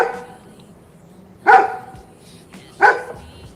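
Two sharp dog barks ring out about a second apart, loud and close, with near silence between them.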